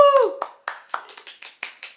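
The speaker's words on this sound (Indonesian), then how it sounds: "Tepuk tangan dulu dong teman-teman semua." A small group of friends on a casual talk show claps hands after a short vocal sound, a sparse run of about eight distinct, separated claps at close range that fade out over two seconds.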